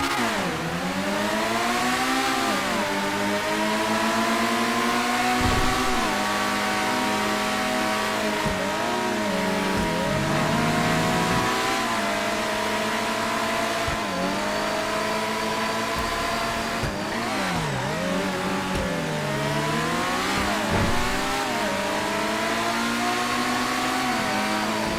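Autarch supercar engine in a video game test drive, revving loudly and continuously with rising and falling pitch sweeps as it accelerates and shifts, no talk over it.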